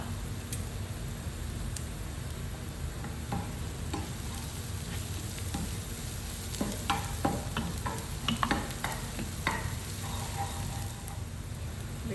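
Okra cooking in a pan with liver, a steady sizzle with scattered stirring scrapes and clinks growing busier toward the end, close and moderately loud with no talk.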